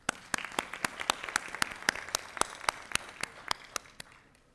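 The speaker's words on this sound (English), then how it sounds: "Please join me in a final round of applause for Dr." A final round of applause at the AIU university commencement, a fairly quiet, sparse audience clapping with distinct individual hand claps standing out rhythmically over a soft bed of wider applause, gradually tapering off at the close.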